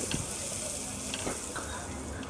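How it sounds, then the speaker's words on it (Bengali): Chopped onion frying in about three tablespoons of hot oil for leftover-rice fried rice gives a steady, close sizzle with a few light clicks of stirring, and no voices. "তেলটা দিয়ে পেঁয়াজটা এক মিনিটের মতো ভেজে নিব"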